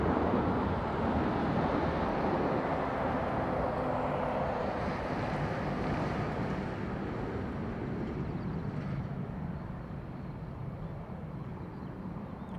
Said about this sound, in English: Aer Lingus A321 Neo from Heathrow.